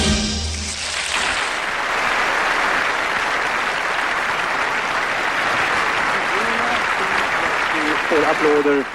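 A large audience at the 1974 Eurovision Song Contest in Brighton applauds loudly and steadily after Italy's entry, with the end of the music fading under the clapping and a commentator speaking over it toward the end.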